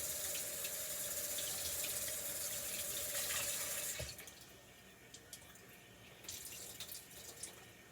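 A kitchen sink tap runs steadily onto bread slices for about four seconds, then shuts off, leaving faint drips and light splashes close by.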